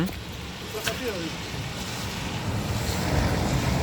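A minibus drives past along a rural yard where a young stallion stands calmly, its broadband rush swelling toward the end amid gusty wind noise on the microphone.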